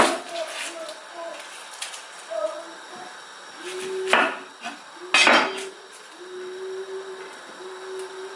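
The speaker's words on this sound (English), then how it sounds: "Let's chop the onions." Onions being chopped on a board during a home Nigerian dinner preparation, a few sharp knife strikes scattered among kitchen clatter and ongoing talk.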